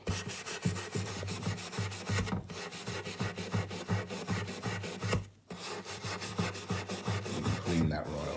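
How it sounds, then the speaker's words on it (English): Wire wool rubs back and forth across a guitar fretboard to clear dirt, a rhythmic scratchy scrubbing in quick regular strokes, close and continuous with two brief pauses. "And if you just take the wire wool,"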